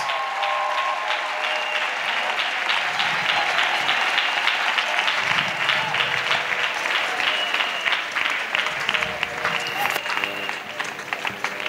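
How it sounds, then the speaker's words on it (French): A congregation at a church service claps together in sustained, loud applause that fills the room, with some voices and cheering mixed in throughout. "Let's clap for the victory of Jesus"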